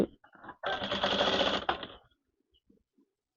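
A sewing machine runs one steady burst of about a second and a half while stitching a half bent shirt collar, loud and close, followed by quiet handling sounds.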